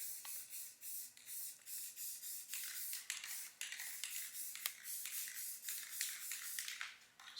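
Tan spray paint mists onto a homemade goose decoy in a steady run of short hissing bursts, close and fairly quiet, with brief gaps between passes and no talking.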